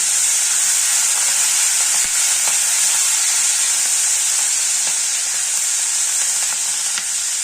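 Asafoetida, curry leaves and coriander fry together for a tamarind pickle, giving a loud, steady, close sizzle that never lets up, with a few faint stirring clicks.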